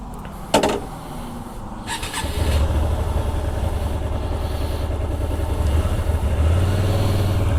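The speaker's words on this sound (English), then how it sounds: "2009 Hyosung GT250R. V-twin 249cc motor" A 2009 Hyosung GT250R with a 249cc V-twin engine: a few sharp clicks and clunks, then the engine settles into a loud, steady idle hum that carries on to the end, close and unbroken.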